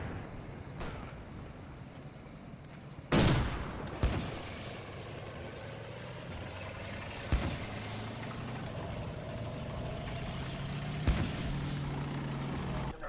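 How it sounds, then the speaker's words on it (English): Combat Mission video game battle in Italy with a Sherman tank firing, four sharp booming shots spaced several seconds apart over a steady rumbling engine and distant battlefield ambience. "A Sherman is ordered forward to fire on the bushes where the foxholes were spotted."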